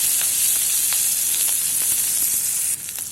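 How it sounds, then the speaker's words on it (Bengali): Chili, onion and garlic fry in hot oil in a wok, giving a loud, continuous sizzle with faint crackles and a few stirring taps, with no voices over it. "কড়াইয়ে তেল দিয়ে দিচ্ছি। এবার আমি শাকগুলো ভাজি করে নেবো। মরিচ পেঁয়াজ রসুন চেষ্টা দিয়ে দিলাম।"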